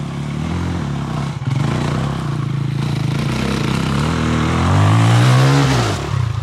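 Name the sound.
enduro motorcycle engine on hill climb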